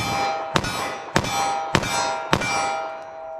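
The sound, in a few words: rapid .45 ACP+P pistol shots hitting a steel target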